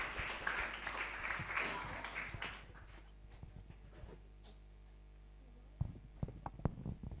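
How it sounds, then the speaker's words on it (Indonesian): Applause from a church congregation at a Sunday service, a dense wash of clapping that fades out after a few seconds, followed by quieter scattered sounds and a few sharp knocks near the end. "Kita kasih tepuk tangan dulu dong"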